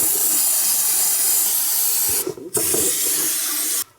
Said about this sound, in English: This is when you bring your brake cleaner and spray it clean.